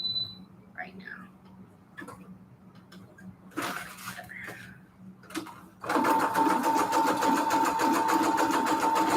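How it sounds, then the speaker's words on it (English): Sewing machine stitching a junk journal with a small stitch, regular presser foot and the needle set to stop down, running in a steady loud continuous whir over the last few seconds after short clicks and brief adjustments. "I guess I want it to sew with the needle pointed down right now."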